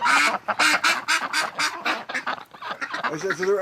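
A penned breeding flock of ducks quacks in a loud, rapid burst of overlapping calls close by, and a person's voice joins in at the end.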